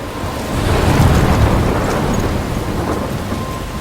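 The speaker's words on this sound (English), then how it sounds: "I'm trapped in a storm?" A thunderstorm in the video game Life is Strange, with a heavy rolling thunder rumble swelling over dense, continuous rain, loud and without speech.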